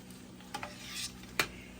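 A spoon stirs turkey pot pie filling with potatoes in a pan, a soft sizzle running underneath with a few light scraping clicks and one sharper knock near the end.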